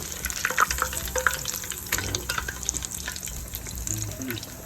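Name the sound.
pork ribs deep frying in oil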